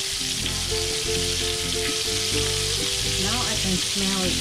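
Phoenix meatballs with salted egg deep frying in hot oil give a loud, dense, unbroken sizzle, heard close up beneath background music, with a short spoken remark.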